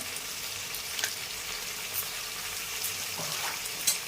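Spiced mushroom curry with turmeric, vegetable masala and garam masala fries in a pan, a soft continuous sizzle broken by a few light clicks and scrapes as it is stirred.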